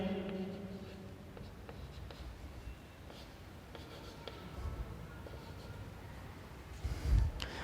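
A pen scratches across paper as a notice is written by hand in a classroom, with soft, close, irregular strokes and small taps, faint and quiet throughout, plus a low thump near the end.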